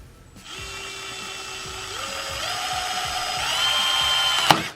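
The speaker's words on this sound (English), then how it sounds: "We're gonna drill some holes in it." A power drill whirs steadily, its pitch stepping up as it speeds through the material, then it stops with a brief clunk.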